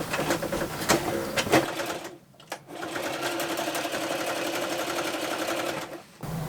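Sewing machine stitching through thick sailboat canvas for a spray dodger, a loud, close, rapid mechanical chatter that stops briefly for a moment, then runs steadily again before another short pause near the end.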